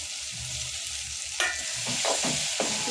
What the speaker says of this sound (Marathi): ह्याला पण परतून घेऊया चांगल्यापैकी